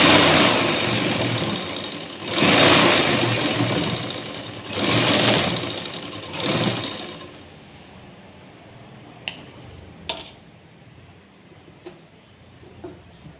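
A sewing machine stitching a folded blouse sleeve runs in a steady whirring buzz with a few rises in loudness, then stops, leaving faint sharp clicks and taps against a quiet background.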